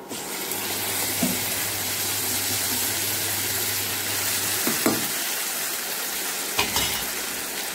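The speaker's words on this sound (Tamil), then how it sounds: "இனிமேல் நம்ம தாளித்தை இதில் ஊற்றிடலாம்" Hot tempering poured into a pot of mutton bone gravy sets off a loud, steady sizzle and frying hiss, with a few sharp splashes and stirring bursts along the way.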